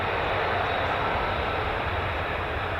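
F-35 fighter jets taxi at RAF Lakenheath, a constant broad jet-engine roar that holds steady and loud throughout.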